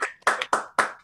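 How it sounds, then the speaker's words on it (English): A few sharp, close hand claps ring out in a quick, evenly spaced rhythm at the close of an online session on human intelligence and genetics, from a single person rather than a crowd. "just another round of applause maybe for Emily"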